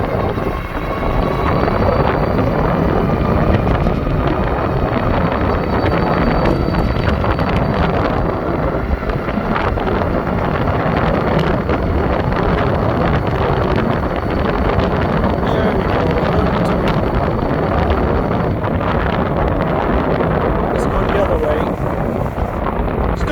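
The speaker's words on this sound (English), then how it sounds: "Windy though, it's a crosswind" Strong crosswind roars across the microphone during a Fucare Scorpio Sport electric scooter test ride, a constant loud rush buffeting continuously throughout with little variation.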